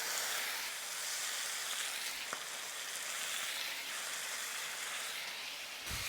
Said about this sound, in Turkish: Buradan şimdi birazcık su takviyesi yapıyorum.